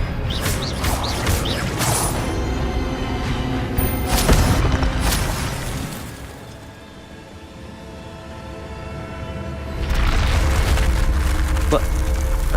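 Magic spell effects from Hogwarts Legacy combat: a loud crackling burst with booming impacts around the fourth second, then a quieter lull before another dense, loud blast of effects near the end.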